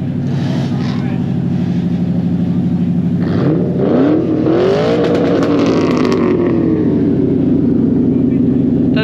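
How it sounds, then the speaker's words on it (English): Ford cars at the Ford Fair at Silverstone rev their engines loudly and up close, with a rising, swooping rev around the middle and steady engine roar throughout, while someone talks over the noise. "If you can hear me over the sound of the engines"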